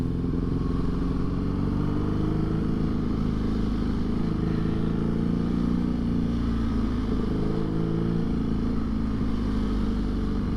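A loud BMW motorcycle engine droning steadily while riding, heard up close from the rider's position, a constant dense roar with slight shifts in pitch and no talk.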